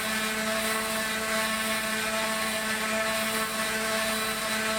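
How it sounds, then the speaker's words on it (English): Power sander working over a wooden stave drum shell, a steady high whine with constant hum, close and continuous throughout, no voices. "See how much dust is coming off of that sander."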